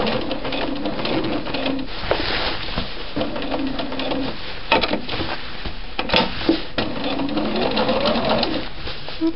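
A sewing machine stitches a shirt collar stand in short bursts of a few stitches at a time, rapid mechanical clatter close up, separated by brief pauses.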